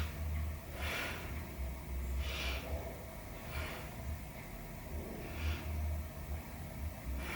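Slow, deep breaths taken during a yoga core workout, each rising and falling as a broad airy rush, about five in a steady rhythm, close and fairly loud over a low steady hum.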